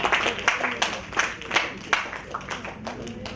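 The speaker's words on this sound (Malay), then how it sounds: "Sekali lagi kita berikan tepukan" A small audience at a book discussion program gives scattered, uneven clapping for a panel expert, with a few sharp individual claps standing out before the sound thins.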